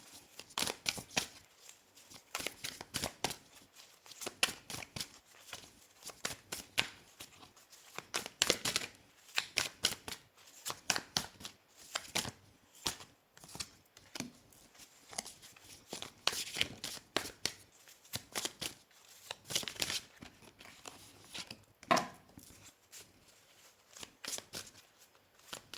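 Tarot cards being shuffled and laid out, a long run of irregular crisp riffles, slaps and card flicks in close, quiet bursts with brief pauses between.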